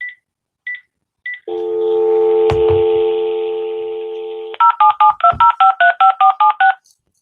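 A phone line gives a few short beeps, then a steady dial tone, then a quick run of keypad tones pressed one after another, each touch-tone note short and clear with brief gaps between.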